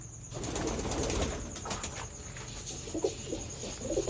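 Soft pigeon cooing close by, with a brief flutter of wings near the start and faint rustling movement.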